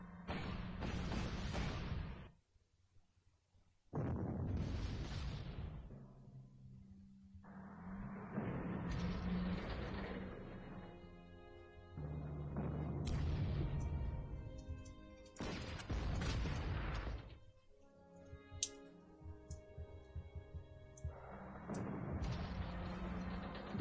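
Artillery fire in the wartime strategy game Panzer Corps, a series of heavy booming bursts each lasting a couple of seconds and separated by short quiet gaps, moderately loud.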